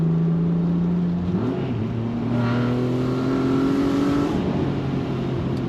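A Jaguar V6 engine fitted in a Mazda MX5 pulls hard through the gears, its steady rising drone climbing in pitch with a shift partway through, loud and continuous with no talking.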